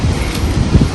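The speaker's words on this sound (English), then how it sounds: "oh my gosh, it's so windy." Strong wind buffets the microphone outdoors during a kite setup, a steady low rumbling roar with gusty swells, loud and close, with no talking.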